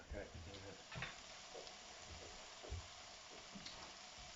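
Flatbread cooking on an oiled griddle sizzles and crackles steadily throughout at a moderate level, with soft pops and small bumps of sound scattered across the hiss.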